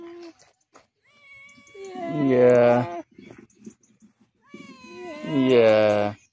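A mother cat with kittens, met on a holiday in Blåvand, gives two loud, drawn-out meows close by, a few seconds apart, with brief quiet human speech in between.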